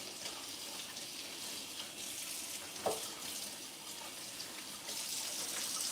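Cold tap water runs steadily into a kitchen sink while chicken legs are rinsed, a soft continuous hiss with a brief splash partway through and the flow swelling slightly near the end.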